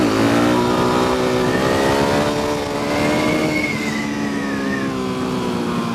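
A 2015 Suzuki DRZ400SM supermoto revs hard for a wheelie. The engine note is loud and close, climbing and sustained for several seconds, with no speech.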